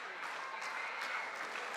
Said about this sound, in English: Here are the fans applauding.